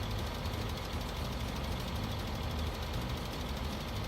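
A tractor engine in Farming Simulator 2015 drones steadily, with a dense, rumbling low-end hum that stays constant and close, without changes in pace and with no talk.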